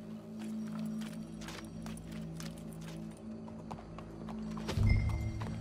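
Horse in the Red Dead Redemption 2 video game: hooves clip-clop steadily at a walking pace, closing with a louder whinny near the end, set over a low ambient game soundscape.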